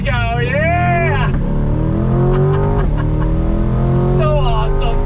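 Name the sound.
2020 Ford Shelby GT500 accelerating from a stop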